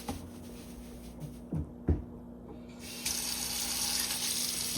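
Tap water runs into a kitchen sink while jalapeños are washed for guacamole, a steady close hiss of flowing water that starts partway through after a few handling knocks.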